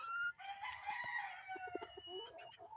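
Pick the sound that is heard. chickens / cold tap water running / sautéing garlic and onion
chickens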